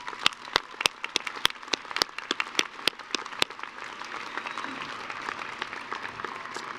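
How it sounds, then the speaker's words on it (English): Audience applause at the University of Idaho winter commencement ceremony: a steady wash of many hands clapping, with a few sharp, loud close claps standing out early before the crowd settles into an even, dense patter. "Let's give them one more round of applause"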